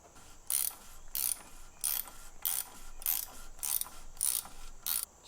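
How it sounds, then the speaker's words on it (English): A ratchet tightens a nut in a series of about eight sharp, evenly spaced clicking bursts, close and fairly quiet, with no talking. "I'm going to tighten that nut while you subscribe"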